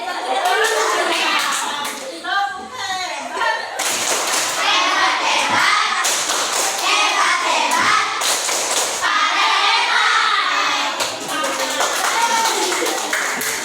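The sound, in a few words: children clapping hands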